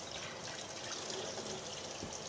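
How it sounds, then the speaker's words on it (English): Warm water fills a cup as full as possible in one steady, continuous trickling pour that runs unbroken from start to finish, close by and moderately quiet, with no voices. "I fill this cup as full as possible with water."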